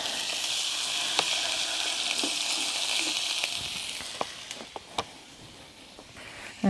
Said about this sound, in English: So we'll give those a brown to start, so just as if you were cooking indoors on the stove